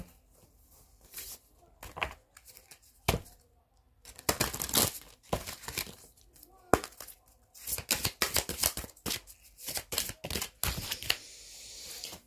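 Playing cards shuffled and drawn from a deck during a French tarot-style reading, with sharp papery riffles, snaps and flicks coming in irregular bursts close up, and no talking.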